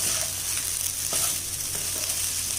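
Leftover rice with pepper-scrambled egg and green masala stir-fried in a pan, a loud steady sizzle with a few spatula scrapes, close and brief, no voices.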